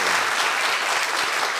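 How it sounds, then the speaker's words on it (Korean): A church congregation at an evening worship festival claps in thanks for a pastor, a dense, even wash of applause throughout the short stretch. "귀한 말씀 전해주신 우리 박동찬 목사님께 감사의 박수 하겠습니다"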